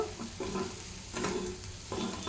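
Ridge gourd egg curry is stirred in a pan in three short spoon strokes, each with a quiet close scrape over a soft, ongoing sizzle.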